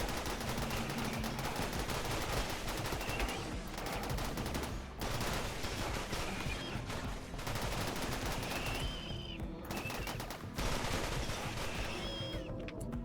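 In the colony sim Rimworld, rifles fire at mechanoids in a steady, dense barrage of close, loud gunshots, volleys overlapping almost without pause for about thirteen seconds.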